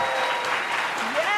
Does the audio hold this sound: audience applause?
yes